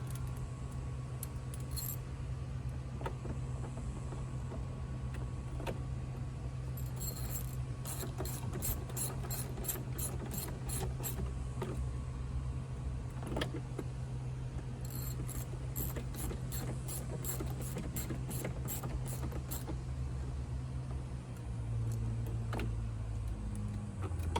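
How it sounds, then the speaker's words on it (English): Bolts on a radio mount in a 2017 Jeep JK being tightened with a ratchet, quick runs of faint clicking repeated in several bursts over a steady background hum, no talking. "Now that my bolts are in place, let's go ahead and tighten them up."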